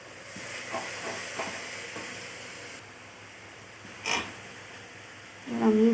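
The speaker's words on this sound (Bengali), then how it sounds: "এবার মশলাটা ভাজা ভাজা হোক।" Ground coriander and cumin, mixed with water, fry in a pan over softened onion, ginger and garlic for a boal fish curry. A steady, soft sizzling hiss carries on throughout, with a single clink near the end and a brief stirring scrape.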